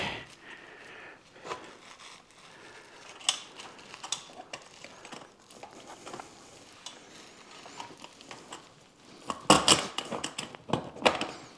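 Metal clicks, ratcheting and clanks come from a press mould being screwed and clamped shut on pork belly. The close mechanical sounds form an irregular run that grows louder and busier toward the end, with no voices.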